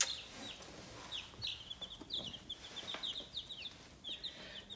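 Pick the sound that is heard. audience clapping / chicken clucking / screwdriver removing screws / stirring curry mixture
chicken clucking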